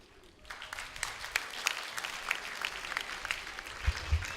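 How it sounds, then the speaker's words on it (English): Audience applause for the final speaker at a secondary school debate grand final, steady clapping heard from a little distance, swelling after a quiet start and continuing to the end. "Round of applause for the final speaker of Busu Secondary"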